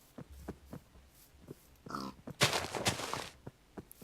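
Pig grunts and oinks from the Minecraft mod Better Than Wolves, several short snorts followed by a louder, longer burst of squealing grunts in the middle, then more brief grunts.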